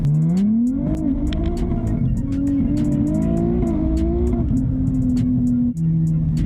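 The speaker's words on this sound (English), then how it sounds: "Just listen to those shifts." A turbocharged Nissan Z screams under hard acceleration at a drag racing event, pitch climbing then dropping with several quick gear shifts, loud and close, with sharp popping bursts throughout.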